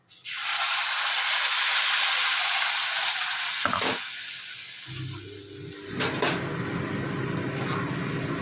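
Fine spice paste dropped into hot oil already tempered with cumin bursts into a loud, close sizzle that starts abruptly, dies down, then resumes with stirring and a lower bubbling hiss.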